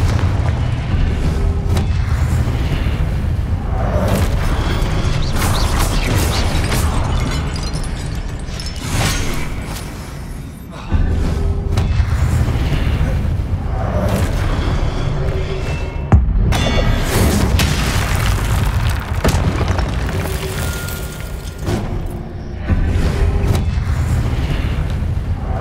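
Repeated Confringo fireball spell blasts in Hogwarts Legacy combat, deep booming explosions landing one after another over a continuous loud bed of battle effects and game music, with brief dips between barrages.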